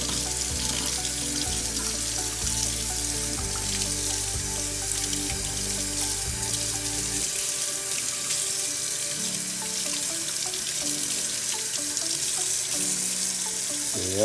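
A kitchen tap runs steadily while radish roots are rinsed beneath the stream, a constant close splashing rush that continues unbroken for the whole stretch with no voices.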